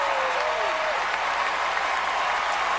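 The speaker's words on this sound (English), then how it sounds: "Oh, look at that standing ovation." Sustained, dense applause from a large audience giving a standing ovation at the Grammys, steady and loud throughout, with a faint tonal sweep early on.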